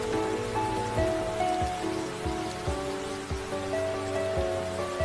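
Steady rain patters on a surface in a continuous wash of drops, with soft tonal music and occasional low thumps underneath.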